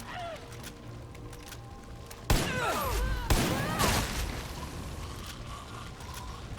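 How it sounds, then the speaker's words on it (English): Gunfire in the video game Far Cry 5, a burst of sharp shots and whizzing projectiles over a low ambient game soundscape, loud and close around the middle, then fading back to background. "Just pop shots at whoever I see"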